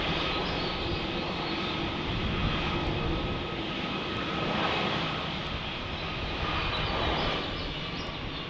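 A Boeing 757 jet engine at Salt Lake City airport gives a steady, broad roar with a faint whine, heard from a distance and sustained with no break across the clip.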